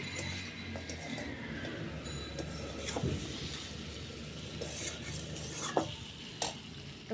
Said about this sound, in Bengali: তো বন্ধুরা কষানো হয়ে গেছে মশলা দিয়ে ভালো করে, তো এবার ডালটা দিয়ে দেবো।